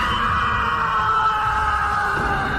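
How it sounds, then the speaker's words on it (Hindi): A man screams over the phone as a horror story effect: one sustained, thin, tinny cry holding steady for a few seconds. "नमन की चीख इतनी तेज थी फोन पर"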